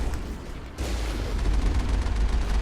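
Enemy gunfire in the video game Mass Effect, a sudden loud burst followed by sustained, rumbling, booming fire that fills the rest of the moment with dense low-end noise.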